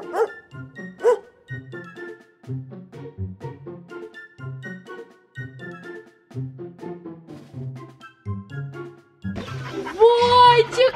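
A dog yips and barks in short bursts among children's excited voices and talk, the barking close and loudest near the end.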